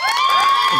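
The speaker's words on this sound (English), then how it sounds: "Applaud now." A studio audience at a comedy show lets out a brief burst of cheering and whooping, loud and close, with high excited voices overlapping.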